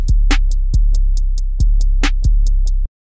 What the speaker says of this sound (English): So very simple 808, nice and clean sounding, has a lot of nice extended low end,